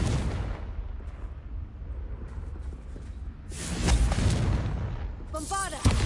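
A Confringo fire-blast spell in Hogwarts Legacy on PS5 erupts as a booming, whooshing burst partway through, with a sharp hit near the end, over game ambience and brief speech.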